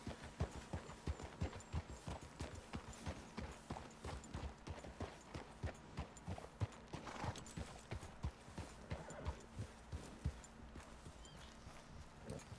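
Steady, evenly spaced hoof clip-clops of a horse in Red Dead Redemption 2 continue throughout at moderate loudness, with a low hum and faint background activity underneath.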